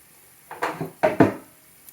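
Cooked spaetzle scooped from a pot into a bowl, a few close clinks and scrapes of a utensil against cookware in quick succession, clean with no talking.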